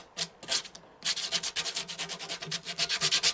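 Hand sanding along the edges of a 2x4 wood bird feeder post, with steady repeated rubbing strokes in a quick even rhythm, close and fairly loud, after a brief quieter pause near the start.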